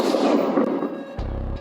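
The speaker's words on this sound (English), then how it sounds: "Shots fired from my partners." Gunfire during a nighttime police shootout with an alleged gang member in Burbank, a dense, loud roar of overlapping shots that continues without a break, with a sharp change in texture near the end.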